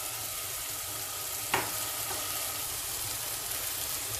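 Carrots and potatoes sautéing in olive oil for a barbunya bean dish, a steady close hiss of sizzling with one brief clatter partway through, no voices.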